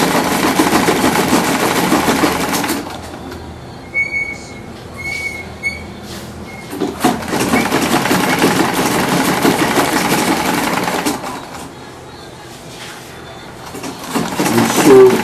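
A sewing machine stitching down buba fabric whirs in several runs of a few seconds each, separated by short pauses, loud and close.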